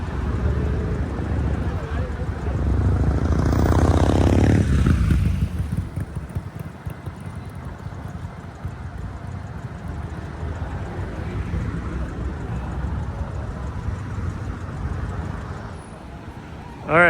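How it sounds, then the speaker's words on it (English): Cars rumble heavily overhead on a San Francisco road, a loud, swelling roar peaking then fading into a steady low wash of traffic and wind noise. "the sound of the cars going over is so ominous"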